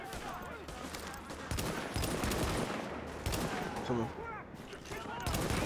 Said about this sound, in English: People shooting. Oh, we're in a gunfight.